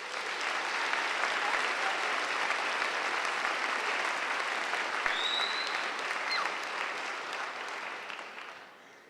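Sustained applause from a graduation audience at a 2013 high school commencement ceremony, a dense steady wash of clapping hands that holds for several seconds, then thins and fades at the end.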